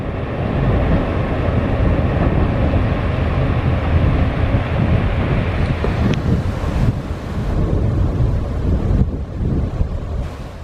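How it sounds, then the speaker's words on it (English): Strong wind buffets the microphone in heavy, continuous gusts, a loud rumbling roar that swells and eases without letting up. "the wind has died down a little bit, but as I say that, it's blowing again"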